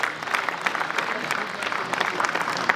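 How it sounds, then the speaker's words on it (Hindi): Audience applause at a college reunion and expo honouring a scholarship recipient, a steady dense patter of clapping hands that holds evenly throughout, with no voices over it. "तालियां हो जाए आप सभी की एवरीवन."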